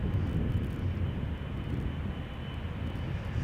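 An Airbus A320 jet at Schiphol's Polderbaan runway gives off a brief, steady low rumble of engine noise, fairly distant and without talk.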